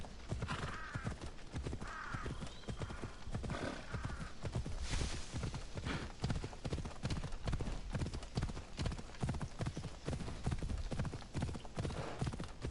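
A horse gallops in Assassin's Creed Odyssey in a fast, steady clip-clop rhythm, hooves pounding continuously and fairly close, with a bird cawing faintly early on.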